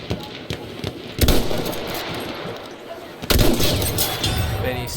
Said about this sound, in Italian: Oh, arrivano bombe.